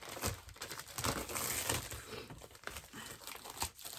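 Packaging for a card organizer kit being opened, with close crinkling and tearing of plastic and paper in busy bursts that carry on throughout, no talking.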